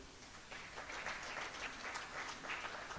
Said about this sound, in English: a round of applause for our panelists here